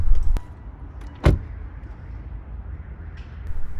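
A Kia, Hyundai or Mitsubishi car door swings and thuds shut once, sharp and close, as the driver exits after the engine stops, followed by quiet cabin ambience.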